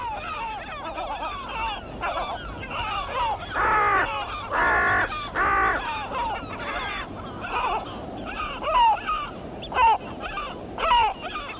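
A hooded crow caws repeatedly in harsh bursts while a gull attacks it in flight on St Kilda, the calls fairly close and loud over wind and other bird noise.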